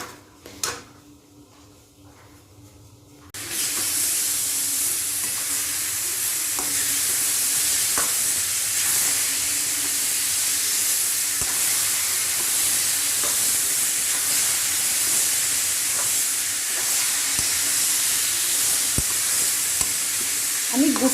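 Grated coconut and jaggery are stirred in a pan for coconut laddu, a steady sizzling hiss with scraping strokes and faint clinks running continuously after a quiet start.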